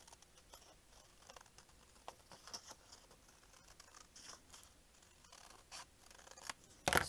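Scissors trim craft material in a series of faint, close snips and small rustles of paper or fabric, with no talking.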